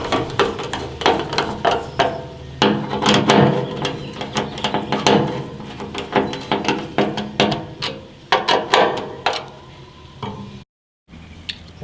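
Screws being tightened into a Traeger grill's folding shelf bracket, a close run of rapid ratcheting clicks and scraping metal turns in repeated bursts, with short pauses and one brief silent gap near the end.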